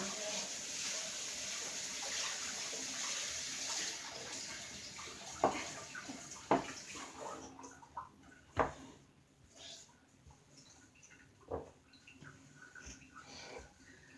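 Tap water runs steadily into a kitchen sink while raw chicken is rinsed, a continuous broadband hiss for several seconds that then cuts off, followed by a few sharp handling knocks and splashes close by.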